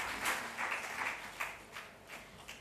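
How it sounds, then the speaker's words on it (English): A live audience at a formal debate on capital punishment in India gives a brief round of applause for the contestants, with scattered clapping bursts that swell and fade, with no talking. "Can we have a round of applause so that they get encouraged and we have an entertaining evening?"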